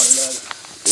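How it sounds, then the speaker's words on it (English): A pressure cooker releases steam in two sharp hissing bursts, one at the start and one at the end, with a short quiet gap between them. "but I get off the pressure cooker now."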